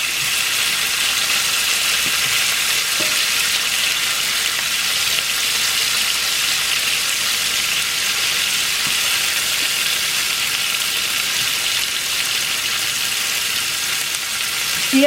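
Shrimp fry steadily in a hot pan for pad thai, a dense, continuous sizzle that holds at the same level throughout with an occasional faint clink of a utensil.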